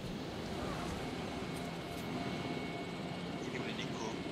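A helicopter in the video game Jurassic World Evolution makes a steady, faint rotor and engine drone that runs unbroken throughout.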